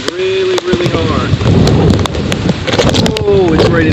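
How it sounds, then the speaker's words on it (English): Heavy hurricane rain in Florida hammers down loudly and continuously with wind gusting against the microphone, while a voice sounds over the downpour. "It's raining really, really hard."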